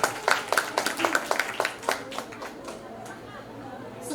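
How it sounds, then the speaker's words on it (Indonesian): Audience applause at an Islamic jurisprudence (fiqh) knowledge exhibition: a short burst of scattered, fairly close clapping that thins out and fades after about two seconds, with low crowd chatter underneath. "Ya, tepuk tangan."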